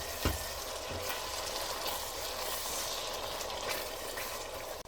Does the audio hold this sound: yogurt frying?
yes